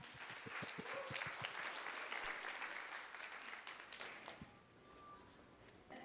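Applause welcoming the final presenting team at a student presentation session, with close, crisp claps at first that thin out and fade into quiet room tone.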